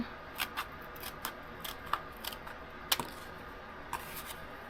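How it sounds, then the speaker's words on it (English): Scissors snip material for an octagon insert in a Scottish castle box, a series of crisp, close cuts arriving irregularly about once every half second, one sharper snip standing out near the middle. "And I'm going to cut this part."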